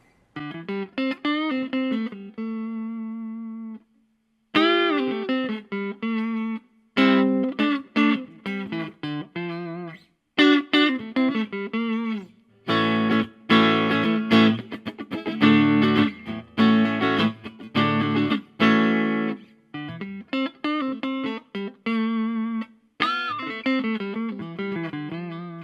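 An Aria Pro II electric guitar played clean on its neck pickup, with repeated strummed chords and short riffs that ring and stop, loud and close with no talking.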